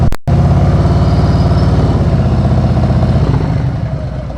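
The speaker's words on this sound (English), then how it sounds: "Did you hear my throttle? You heard my throttle until my motorcycle stopped." A motorcycle engine runs with the throttle held on as the bike slows to a stop: a steady, close, chugging drone after a brief opening knock, easing slightly toward the end, with no talking.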